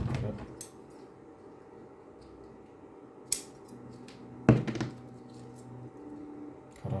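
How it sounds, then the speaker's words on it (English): Scissors snip excess double-sided tape while a seawitch trolling lure is being tied, with a few distinct sharp clicks standing out against a quiet background of small handling noises. "Cut off the excess."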